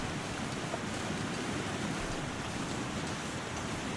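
Steady broadband rush of flowing river water in the survival game The Long Dark, a continuous even wash with low rumble, close and unbroken throughout.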